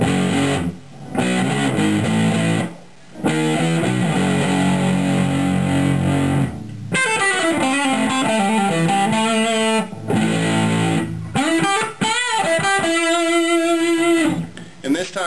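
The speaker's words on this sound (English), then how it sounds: "I'm going to turn the fuzz up to halfway up." An electric guitar runs through a Danelectro Cool Cat Fuzz pedal with the fuzz set halfway, playing loud distorted riffs and sustained chords broken by short pauses.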